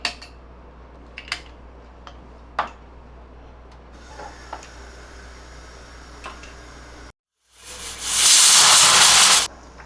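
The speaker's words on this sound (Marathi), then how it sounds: "आता आपण हे लावूया आणि याच्या तीन शिट्या घेऊया" A pressure cooker holding chickpeas lets out a loud, close burst of hissing steam near the end, after a quiet stretch marked by a few scattered light ticks.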